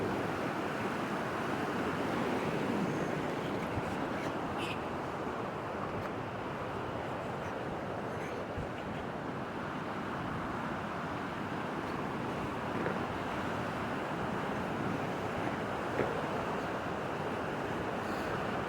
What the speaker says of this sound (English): There's a lot of water running through that.